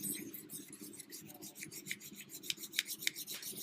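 A convex-edged, high saber grind knife is sharpened to raise a wire edge, with a steady run of soft, rhythmic rasping strokes, quiet and close, a few of them landing crisper and brighter toward the end.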